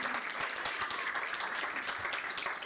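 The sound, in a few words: audience applause at board meeting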